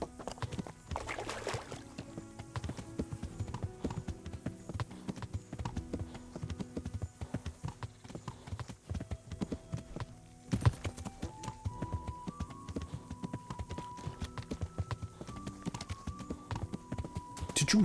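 Horse hooves clip-clop in a steady rhythm close by, with a dense musical, cartoon-like backdrop running beneath the whole stretch.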